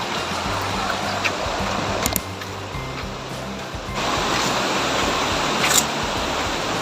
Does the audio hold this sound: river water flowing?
yes